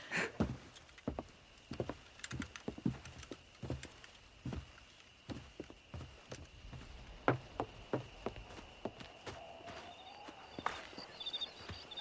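Horse hooves clip-clop across hard ground in Red Dead Redemption, an irregular run of soft near thuds and clicks over a faint steady hum, with brief tonal game sounds near the end and no talk.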